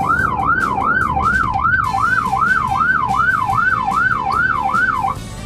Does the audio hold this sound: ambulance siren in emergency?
yes